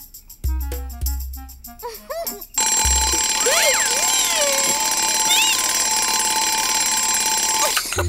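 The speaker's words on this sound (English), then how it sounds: "Look, it's just an alarm clock." In an animated cartoon, an alarm clock rings loud and continuous for several seconds after a few short musical notes and cartoon voice sounds, with bright chirping tones over the steady ring.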